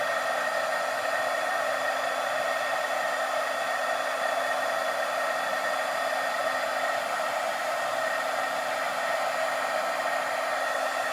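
A heat tool blows a loud, constant whirring hiss with an even tone throughout while melting white embossing powder on beige card stock.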